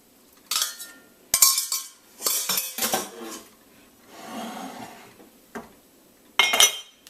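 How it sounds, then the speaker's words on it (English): Lemongrass tea strained into a teapot through a strainer: a series of close metallic clinks and scrapes of the strainer against the pot, separated by pauses, with a soft pouring rush in the middle. "And all I would do is strain it into my teapot."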